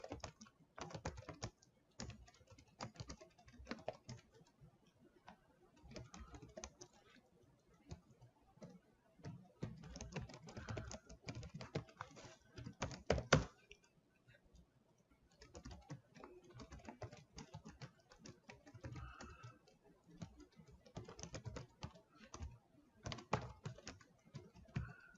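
Someone types C# code on a computer keyboard, producing quiet, close bursts of rapid key clicks broken by short pauses, continuing on and off throughout.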